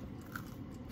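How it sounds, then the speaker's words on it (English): Homemade pizza crust being bitten into, a short crisp crunch close up against a steady background hum. "Oh, you hear that crunch?"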